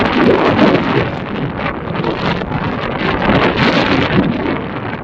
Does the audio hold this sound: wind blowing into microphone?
yes